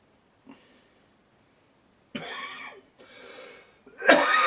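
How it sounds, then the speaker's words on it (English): A few harsh, close coughs come in short bursts after a quiet stretch, the last one the loudest. "got a bit of a cough as well."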